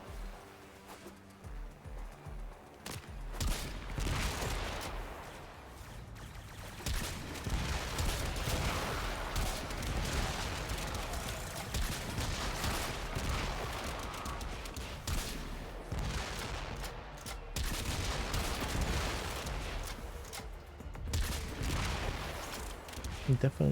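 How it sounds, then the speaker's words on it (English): Continuous gunfire from shooting at the ground in Warframe, a dense, rumbling barrage of rapid shots held at steady loudness for the whole stretch, with a few brief lulls. "using Zac shooting at the ground is way better than like trying to shoot at them"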